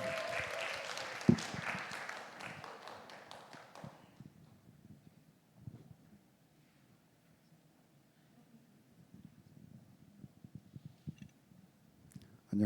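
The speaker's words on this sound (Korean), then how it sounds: "뜨거운 박수를 부탁드립니다" A church congregation at a Sunday afternoon worship service gives a short burst of clapping that fades after about four seconds, leaving quiet room noise with scattered soft knocks and shuffles.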